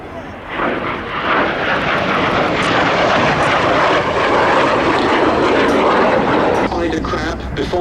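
A captured Soviet MiG-15 or an RAF Vampire twin-boom jet flies at Duxford airfield, producing a loud, steady roar that sustains evenly for the whole stretch with no talking.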